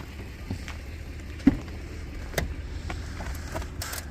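A car being driven on the road, heard from inside: a steady low engine and road rumble with a few soft knocks and rattles, and no talking.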